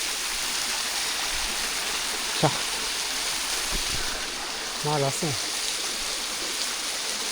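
A waterfall stream on the Erathna trail to Sri Pada rushes in a constant, close, broadband wash of flowing water, with a couple of brief spoken words over it.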